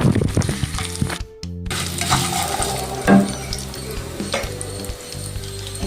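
Cumin seeds and dried red chillies sizzle and crackle in hot oil in a pan, a close, continuous frying hiss with occasional stirring clatter.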